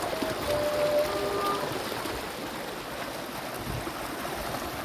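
The Batang Merangin river in Kerinci flows with a steady, soft rushing wash of moving water, moderately close and fairly even, with no voices over it.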